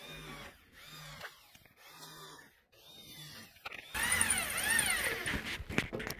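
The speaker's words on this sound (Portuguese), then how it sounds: "Tem uma maquininha também, que é tipo fita de lixa. Uma lixa de fita. Você lixa ela também." A belt sander works a damaged car body panel in a body shop, whining in short on-off bursts and then in a louder, continuous grinding run with shifting pitch.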